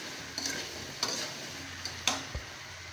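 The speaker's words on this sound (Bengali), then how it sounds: "এখন আমি কেটে রাখা ফুলকপি এবং আলুটা দিয়ে নাড়াচাড়া করে নেব।" Cut cauliflower and potatoes being stirred into a frying spice paste, with four distinct scraping clacks of the spoon against the pan over a low, quiet sizzle.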